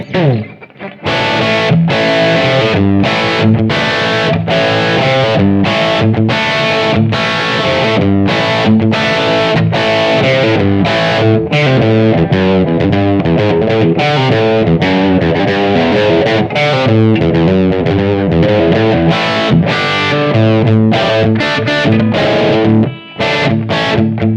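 Distorted electric guitar plays a steady chugging crunch riff through a BOSS eBand JS-10 with a roomy, ambient reverb tail, loud and continuous throughout.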